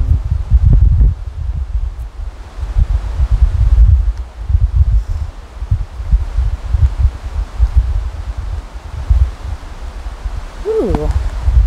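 Wind gusting outdoors, buffeting the microphone in uneven low rumbles with rustling bursts that rise and fall, no voices.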